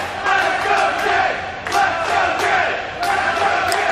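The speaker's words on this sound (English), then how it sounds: "Crowd behind Jay White here at the moment." A wrestling crowd cheers and chants for Jay White in an arena, a loud continuous roar swelling in waves with rhythmic chant-like bursts.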